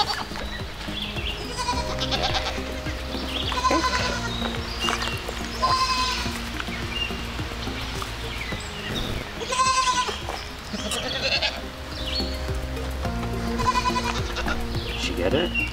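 Goats bleat repeatedly at close range, several loud wavering calls spaced every couple of seconds over a steady background hum, with some voices mixed in.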